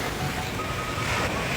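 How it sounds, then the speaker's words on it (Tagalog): Strong ocean waves roll in at Maragondon beach as a dense, steady roar of surf mixed with wind buffeting the microphone, loud and unbroken with no voices. "kung gaano kalakas yung alon dito sa Maragondon"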